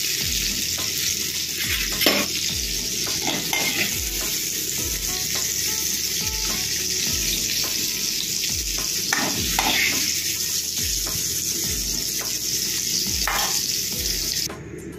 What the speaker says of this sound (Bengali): মাশরুমগুলো ভেজে তুলে নিলাম।